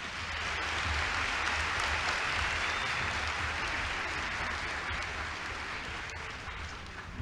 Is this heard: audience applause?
yes